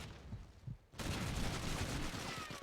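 Call of Duty 2 shooting during a tournament match: after a quiet second, a dense, sustained burst of gunfire starts abruptly and runs to the end, loud and continuous with overlapping shots.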